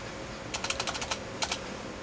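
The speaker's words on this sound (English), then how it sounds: "Except I typed in the wrong thing." Someone types on a computer keyboard, a quick run of about eight light clicks, a short pause, then two more keystrokes, all faint against a quiet room hiss.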